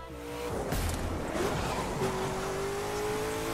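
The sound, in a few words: Shelby GT500 exhaust backfiring in video game The Crew 2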